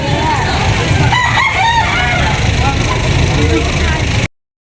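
A rooster crows loudly at a fowl market over a constant low rumble of traffic or engines, with other fowl clucking nearby.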